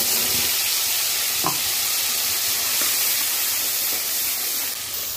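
Whole spices, two large chillies, garam masala and cumin seeds crackle and sizzle in hot oil in a kadai for Bengali dum aloo, a steady close frying hiss with a few sharp pops, no voices.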